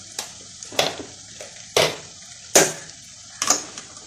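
Chilli and turmeric powder are stirred into onions frying in oil for a Kerala egg masala curry, five or six sharp scraping strokes of a spoon against the pan over a soft sizzle.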